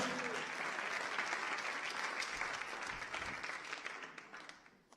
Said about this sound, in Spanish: ¿Cuánto le damos un aplauso a Dios?